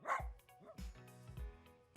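A puppy barks in several short, sharp yaps spread across the moment, fairly close, with quiet gaps between the barks and no one talking.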